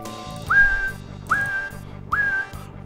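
A man whistles three short rising notes in a repeating pattern while music plays softly underneath.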